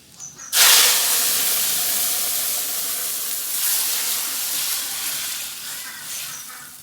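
Lentil dal hits a hot pan, setting off a sudden loud burst of hissing steam and sizzle that holds steady for several seconds, close up with no talking.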